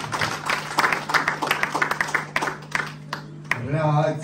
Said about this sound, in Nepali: परमेश्वरले एकचोटि ताली बजाएर धन्यवाद दिनु